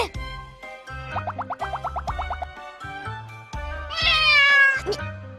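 A cat gives a single drawn-out meow with a rising then falling pitch, heard over bouncy background music in an anime idol game scene.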